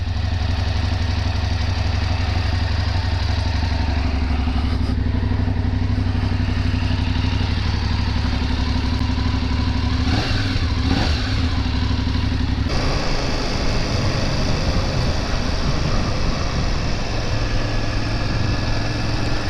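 A BMW F750GS motorcycle being ridden on the road, its engine a steady, loud drone blended with wind rush and no talking.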